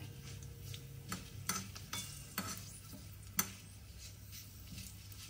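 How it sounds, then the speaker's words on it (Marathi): Mustard seeds splutter in hot oil for jaggery ladoo seasoning: scattered sharp pops and crackles, five or six standing out, over a quiet low sizzle. "सासम पटपटेले."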